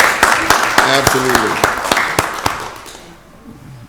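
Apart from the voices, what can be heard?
applause at a county board meeting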